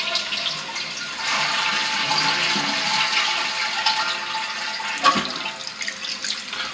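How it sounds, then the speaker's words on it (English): A household toilet flushes with a steady, loud rush of water that runs unbroken throughout, carrying off the last of a blue cleaning solution in the bowl, with a brief clunk near the end. "We're going to flush and get the last of the blue out."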